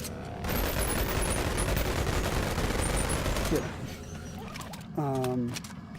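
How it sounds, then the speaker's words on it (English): Dual Uzi submachine guns fired together in Boneworks, a dense rattling stream of rapid automatic fire that stops partway through, followed by clattering and a short mechanical whine while someone talks over it. "you see what I mean with double Uzi. Double SMG is pretty insane."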